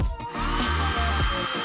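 A hair dryer whirs loudly and continuously, with a brief dip in its motor hum partway through, no talk.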